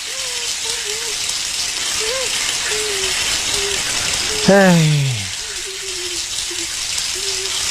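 Shower water running steadily in a bathroom, a constant hiss of spray, with a person singing or humming in short phrases over it and a brief louder vocal swoop midway.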